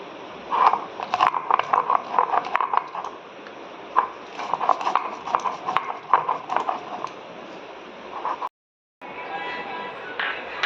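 Spice paste ground by hand on a dry stone slab (shil-nora) for an Araku-style mutton curry: repeated scraping and knocking strokes in an uneven rhythm, close and moderately loud, with a short break near the end.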